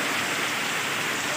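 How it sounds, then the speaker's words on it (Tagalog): Strong floodwater rushes past in a loud, dense, continuous roar that fills the whole moment, close by and with no voices. "Lakas ng tubig, oh."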